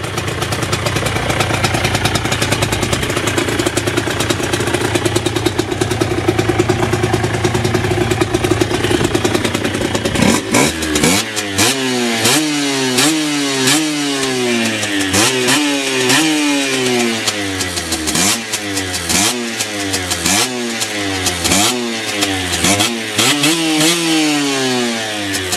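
An Aprilia RS 50 motorcycle engine idles with a rough, buzzing two-stroke rattle, then from about ten seconds in revs repeatedly in rising and falling sweeps, loud and close throughout with no voices.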